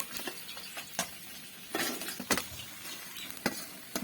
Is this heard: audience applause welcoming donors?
no